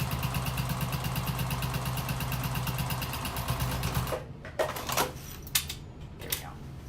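A sewing machine sews down a side seam on a slouchy tote bag with a steady, fast rhythmic chatter of stitches. After about four seconds it stops, leaving a few scattered clicks and handling noises.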